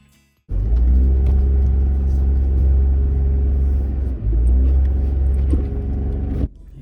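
A kei camper van, an Indy 727, strains up a sandy slope, its engine droning loud and steady close by for several seconds with a brief dip midway before cutting off.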